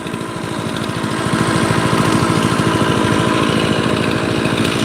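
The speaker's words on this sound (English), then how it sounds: "I'm gonna run the chainsaw right now a little bit." A chainsaw's small two-stroke engine runs steadily at a fast idle, a loud buzzing drone that rises slightly and holds.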